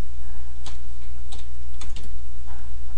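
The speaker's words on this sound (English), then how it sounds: "Another way to get to this page right away is just by typing in" A web address typed on a computer keyboard: several crisp key clicks in short irregular bursts over a low steady hum, with no talking.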